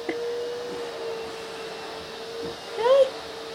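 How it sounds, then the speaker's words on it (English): A vacuum cleaner runs with a steady, moderate drone throughout, and a kitten gives a short meow near the end. "You're really scared of the vacuum, aren't you?"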